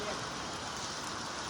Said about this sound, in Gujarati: વરસાદ ચાલુ થઈ ગયો જો